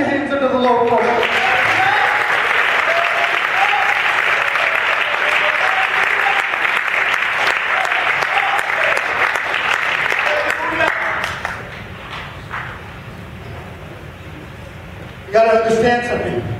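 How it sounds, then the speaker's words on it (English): A church congregation at a Sunday service claps hands in sustained, dense applause for about eleven seconds, then it fades to quieter room sound as a preacher's voice returns. "Go on and clap your hands unto the Lord for it."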